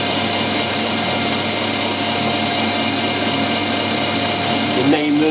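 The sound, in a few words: drilling with a blunt drill bit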